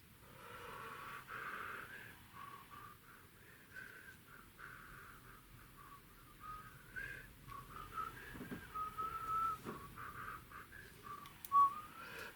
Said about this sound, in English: Sorry, I'm whistling here.